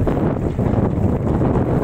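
Wind blowing across the Buriganga river, a steady loud rumbling buffet on the microphone with no pauses.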